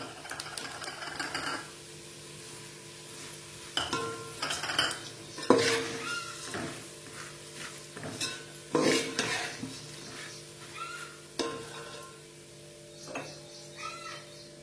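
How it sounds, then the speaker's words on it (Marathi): A spoon stirs and mixes puffed rice bhel with spices in a bowl, producing irregular scraping, rustling and clinking bursts that come close and fairly loud with short pauses between strokes. "आता हे छान मिक्स करून घेऊया."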